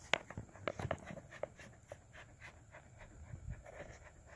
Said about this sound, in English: This is my Jagdterrier right here.